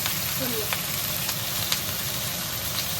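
Taro root fries in a pan, giving a continuous close sizzle and crackle with a few faint clinks from stirring.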